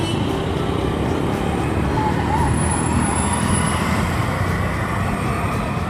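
Continuous road traffic on a busy Delhi street, a steady broadband rumble of passing cars and other vehicles at a fairly constant level, with no clear individual events.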